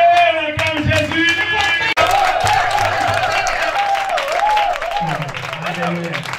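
A church congregation claps and cheers in acclaim of Jesus, with sustained loud applause, shouts and voices blending into a continuous crowd roar close by throughout.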